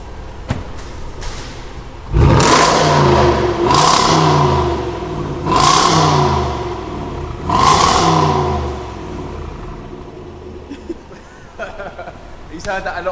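A 2019 Range Rover Sport SVR with a newly fitted loud exhaust revs four times in a row, each burst a deep roaring surge that swells and falls away, with people chatting and chuckling nearby between the revs.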